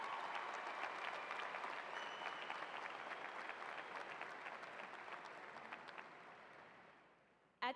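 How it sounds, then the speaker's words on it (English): A large audience at a 2013 Lubbock Monterey High School commencement ceremony applauds the class leaders, with sustained crowd clapping that holds steady for several seconds before tapering off. "Please join me in applauding these leaders for all of their hard work this year."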